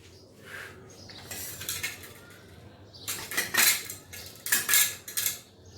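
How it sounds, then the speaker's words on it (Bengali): A knife cutting dates on a board in a home kitchen, with bursts of crisp clicking and tapping that grow louder and busier in the second half. "তো আমি এখন যেটা করব, আমি এখন খেজুরগুলোকে জাস্ট কেটে নিব।"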